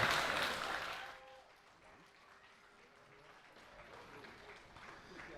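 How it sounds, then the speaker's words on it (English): Applause for a steel pan band at a concert, a burst of crowd clapping that swells at the start, then fades and lingers faintly in the background as a voice talks over it. "another round of applause, boys"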